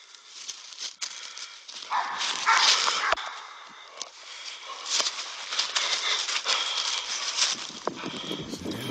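A pit bull barks and yips repeatedly at close range outdoors, the bursts uneven and excited, with faint voices around it.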